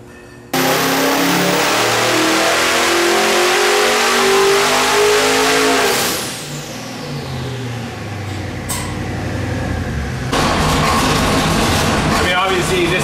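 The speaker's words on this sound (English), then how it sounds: "this idle is a lower than I'd want it to be, but it just shows you that the damn thing's idling at low 700 RPM" A twin-turbo LSX-powered Camaro supercar engine runs loud and close, its pitch shifting and dropping midway before settling into a lower, steady rumble.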